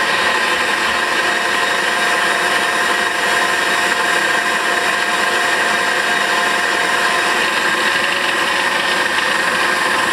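Power drill boring into a 6.2 LS crankshaft to balance it, a steady continuous machining whine with grinding bite that holds unbroken and loud throughout, with no talking.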